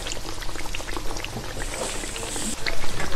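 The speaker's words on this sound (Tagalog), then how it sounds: "Kumukulo na po, kaya ilalagay na niya yung mais." A pot of pochero soup with pork, vegetables and broth bubbles and simmers, a busy crackling boil with popping bursts, close by and growing slightly louder toward the end.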